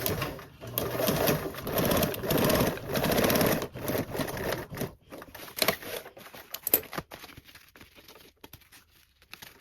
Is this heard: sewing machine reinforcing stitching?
yes